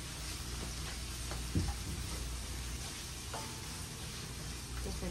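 Bacon sizzling steadily in a pan while being stirred, for a lentil soup, a constant close frying crackle with a few faint scrapes and taps from the stirring.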